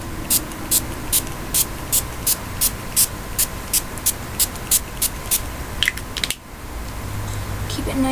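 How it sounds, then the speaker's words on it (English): A hand spray bottle mists the soil in a small hermit crab cage, about a dozen sharp, evenly spaced hissing squirts close by, followed by a soft rustling hush. "Since there's soil in there, I'm gonna mist it down a little bit."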